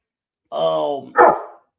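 A pet dog close by gives a drawn-out, whining bark, then one short, sharp bark, loud against silence.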